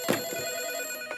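A telephone in a Marathi comedy film rings: a bright electronic ring that starts, sustains and briefly repeats, heard on its own.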